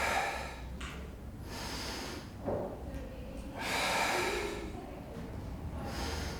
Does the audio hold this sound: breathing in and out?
yes